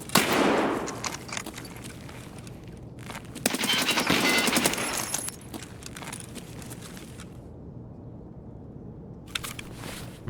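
Gunfire in the video game Escape From Tarkov, set in the Factory map: bursts of loud shots, a dense volley near the middle, then a scattered shot or two near the end with quieter stretches between them.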